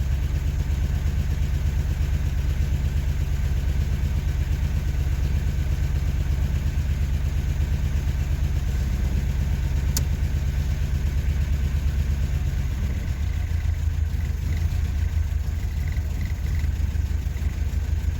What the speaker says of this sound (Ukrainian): Як бачимо перший запуск, так веде себе авто. Мотор запустився